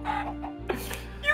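Short burst of Minecraft chicken clucks in a game scene, a few brief squawky calls over a steady low game background hum, with a sharper accent near the middle.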